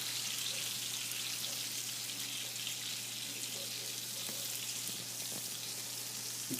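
Butter foams and sizzles in a pan ahead of being spooned over gnocchi, a steady close crackling hiss running without pause and without talk.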